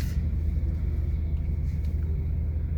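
Heavy stop-and-go traffic jam on Rizal Street in Makati, with a dense, steady low rumble of idling car engines close by and no clear voices.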